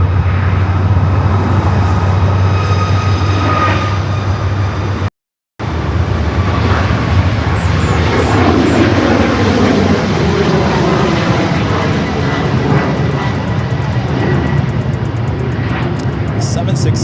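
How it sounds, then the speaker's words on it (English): A Delta Boeing 767-300ER heavy airliner at LAX lines up for departure, its engines roaring loud and steady over a continuous broadband rumble, with a brief cutout partway through and radio-style voices talking over it. "You do have a Delta 767 at 300 left to ER."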